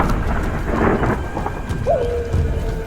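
A thunderstorm with heavy rain and strong wind makes a dense, continuous roar of rain on surfaces, with low thunder rumbles and gusts, loud and close, with no speech.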